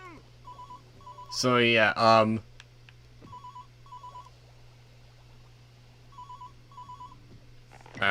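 A phone booth in a SpongeBob SquarePants video game rings with short, electronic double-beep tones repeating at a steady pace, interrupted midway by a burst of exclamation, with someone talking briefly over the ringing.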